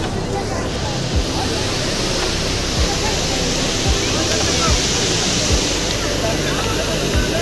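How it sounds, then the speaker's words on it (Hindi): Strong waterfall at a temple site, a loud, unbroken rushing roar of falling water heard close up, with faint thumps and distant voices buried beneath the torrent. "क्या झरना, कितना तेज है देखो।"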